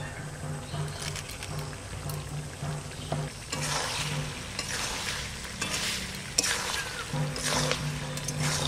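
Bay leaves and green chilies fry with duck meat in a village pot, a steady close sizzle with scraping stirs and clinks throughout, no talk.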